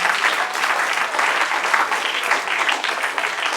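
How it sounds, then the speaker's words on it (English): A room of students at a school mathematics festival clap for themselves, a brisk, close, even round of applause that holds steady throughout. "A round of applause for yourselves"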